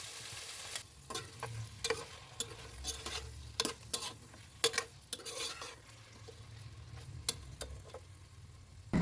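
Paneer cubes frying in a little oil in a pan, a steady soft sizzle broken by repeated sharp clinks and scrapes of stirring against the pan throughout, close and fairly quiet.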